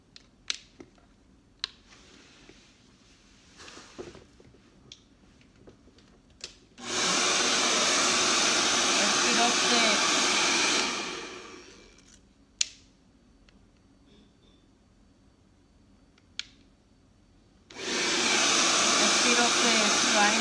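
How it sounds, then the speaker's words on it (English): A blow dryer whirs loudly in two long bursts, drying a painting, switching on for several seconds, cutting off, then starting again, with quiet handling noises between. "So now I'm using a blow dryer"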